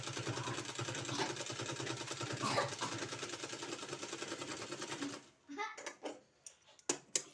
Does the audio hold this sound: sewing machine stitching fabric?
yes